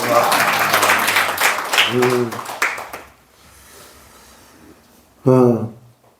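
A church congregation applauding for a visiting pastor couple, a loud burst of clapping under a voice that fades out, followed by more speech.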